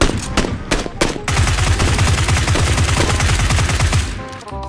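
Automatic gunfire in the battle royale game PUBG: a few sharp shots at first, then a long, steady rapid burst of rounds, loud and close, with faint game sounds fading at the end.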